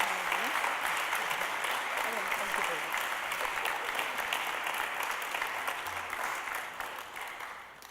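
A congregation applauds an award recipient at a Graduating Seniors Shabbat service, with sustained crowd clapping that stays full and even and then eases slightly toward the end.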